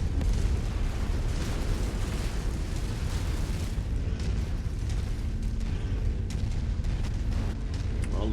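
Explosion of a destroyed target in MechWarrior 5, a loud, sustained rumbling blast with heavy low-end roar that keeps up for several seconds, speckled with crackling bursts and debris-like pops.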